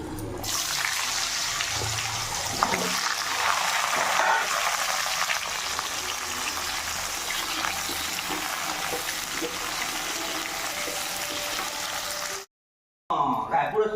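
Pointed gourd and potato frying in hot oil, a steady dense sizzle with soft stirring that runs evenly and fairly loud before cutting out briefly near the end.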